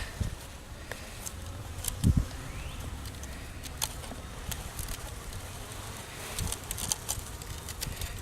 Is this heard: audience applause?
no